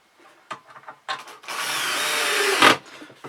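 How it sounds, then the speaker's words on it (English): A power drill drives a screw into scrap timber boards, with a few short clicks and bursts before a steady whirring run of about a second, ending in a brief louder grind as the screw seats, close up. "get the two boards together nice and tight, and then screw that in"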